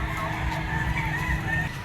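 A white-legged banderado Boston Roundhead bullstag rooster crows up close, a loud sustained call filling the whole moment with no talk over it.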